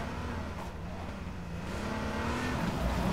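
Car engine in a multiplayer video game hums steadily with a low droning tone and slight pitch rise as it drives, continuous and moderately loud without talk.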